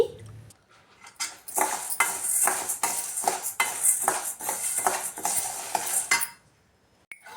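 Lentils fried on low flame in a pan, stirred with a metal utensil that scrapes and clinks against the pan in quick, fairly loud repeated strokes, falling quiet near the end.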